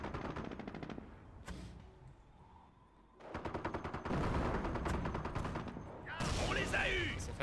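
Gunfire in a night battle in the Company of Heroes video game: rapid machine-gun bursts and volleys crackle loudly, with a lull in the middle and more intense firing toward the end.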